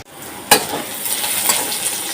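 Taro greens and spices fry in a pan with a steady sizzle, opened by one sharp clink of a utensil against the pan and followed by faint scraping as they are stirred.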